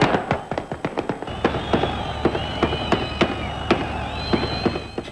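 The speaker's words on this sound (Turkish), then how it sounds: "Güvenlik güçleri ise Filistinleri durdurmak için havaya ateş açıyor." Security forces fire gunshots into the air to hold back a Palestinian crowd in Ramallah in 2004: a rapid, irregular string of sharp cracks and pops, some close and loud, others softer, over a background of crowd noise and high calls.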